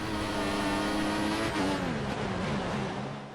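Formula 1 race car engine in the F1 2014 video game screams loudly and continuously as the car slides at the rear, its pitch shifting and dipping midway before climbing again, with no talk.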